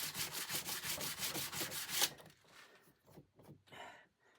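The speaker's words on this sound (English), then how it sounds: "this is some very fine sandpaper, which gives it a bit of a nice polished good look" Very fine sandpaper rubbed rapidly back and forth over a gun barrel, in a steady rhythm of about a dozen quick strokes, followed by a few slower, softer passes. The sound is close and moderately quiet, with no talking.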